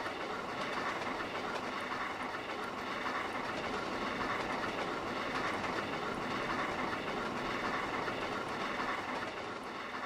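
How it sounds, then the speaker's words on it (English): A goods train passes on the Settle and Carlisle route in the Trainz game, a steady, continuous rumble with rhythmic clickety-clack of wheels over rail joints, moderately loud and without speech. "There's another train. It's a goods train."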